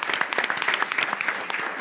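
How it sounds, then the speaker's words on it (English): Audience applause for teachers and staff at a Dearborn Public Schools board of education meeting: dense, steady clapping from many hands, sustained and fairly loud throughout. "I'm going to applaud you all right now, and all our staff"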